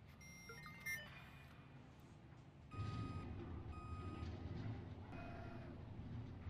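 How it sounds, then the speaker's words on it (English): Truck reversing alarm in the video game Watch Dogs 2: a series of evenly spaced, high electronic beeps over a low engine rumble that swells partway through, with no talking. "Need a big truck to get over the fence."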